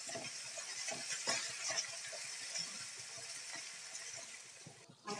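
Curry leaves sautéing in a hot pan with steady sizzling and frying crackle, close and moderately loud, a few light stirring clinks, no voices.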